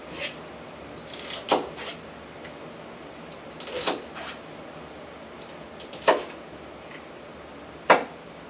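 Knife chopping celery with a drop-and-push stroke, giving a few sparse, crisp cuts spaced seconds apart against a quiet kitchen background.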